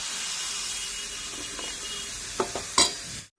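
Bitter gourd pieces frying in hot oil make a steady, close sizzle throughout, broken near the end by a few brief scraping clinks as the pieces are scooped out of the pan.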